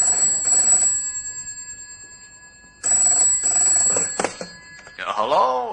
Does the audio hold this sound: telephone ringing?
yes